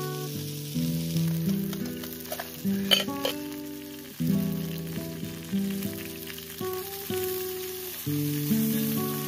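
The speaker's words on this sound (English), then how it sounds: "I put some breadcrumbs on him and I'm frying him." Breaded fish strips fry in a pan, giving a steady close sizzle with crackling bursts and occasional clatter, as though the pieces are being stirred or shifted.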